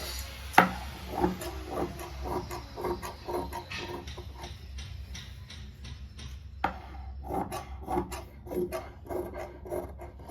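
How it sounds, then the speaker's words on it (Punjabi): Scissors cut through shirt cloth in a series of close, crisp snips and rasping strokes, irregular in rhythm and heard alone with no talk. "ਆਪਾਂ ਕੱਪੜੇ ਨੂੰ ਵਿੱਚੋਂ ਕਟਿੰਗ ਕਰ ਦਵਾਂਗੇ"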